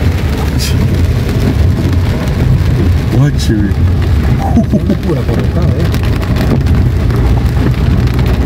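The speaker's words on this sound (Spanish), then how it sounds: "Ya les vamos a mostrar cómo se encuentra hoy bajo esta gran tormenta que estamos por acá recibiendo." Heavy storm rain pours steadily in Caserío El Ahogado, Metapán, El Salvador, a loud, dense hiss throughout, with a voice speaking partway through.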